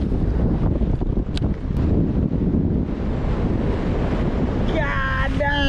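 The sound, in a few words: strong north wind blowing over microphone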